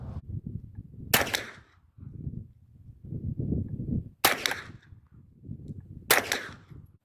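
Three rifle shots fired at a target 50 yards away with a red dot sight, sharp loud cracks spaced a couple of seconds apart, with low rustling and handling noise in between.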